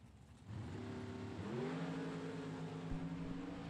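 Super stock drag race cars launch and rev hard down the strip at a $10,000-to-win event, engine tone climbing steadily from a distant idle to a loud, sustained roar.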